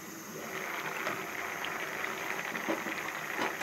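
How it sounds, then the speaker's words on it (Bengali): Potatoes simmer in a covered pot on a home stove, a steady close bubbling and hiss with soft irregular pops and no talk. "ঢেকে দিলে তাড়াতাড়ি আলুটা সিদ্ধ হয়ে যাবে।"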